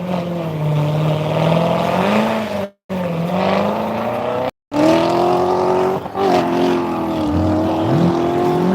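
A Ford GT500 accelerates flat out down the runway at the Texas Mile, its engine note climbing steadily through the gears with brief breaks between shifts, loud and close as it pulls away.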